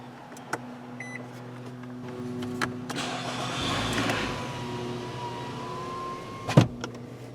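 A Nissan Altima 2.5 with a rough-running, stalling engine is driven after fully warming up, giving a steady low engine drone with a brief electric power-window whir partway through and a sharp thump near the end.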